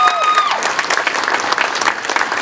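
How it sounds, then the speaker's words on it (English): A crowd at an outdoor community unity gathering applauds the local police department, loud, close, sustained clapping with a few whistles, a brief tone fading out at the very start. "so can you give them a round of applause, please?"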